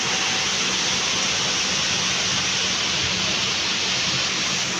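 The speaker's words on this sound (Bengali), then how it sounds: "বৃষ্টি পড়তেছে অনেক," A hailstorm with heavy rain hammers down amid thunder and lightning, producing an unbroken, fairly loud wash of falling water that stays even from start to finish.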